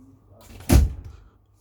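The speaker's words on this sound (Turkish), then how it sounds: "Kapıyı kapatır mısın?" A door shuts once in a room where electronics are being set up, a single dull thud with a brief rattle, moderately loud and alone.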